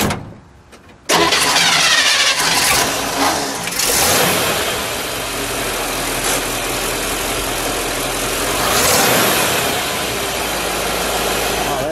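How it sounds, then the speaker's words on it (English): A 1957 Chevrolet Bel Air Nomad station wagon with power pack and dual exhaust cranks briefly, catches with a sudden loud burst, then settles into a steady close idle that swells once midway. "let's fire it up, shall we? And we'll let it idle."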